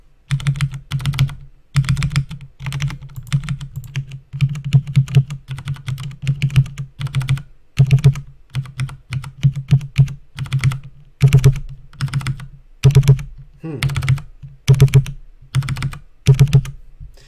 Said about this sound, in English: So now let's try it with the keyboard.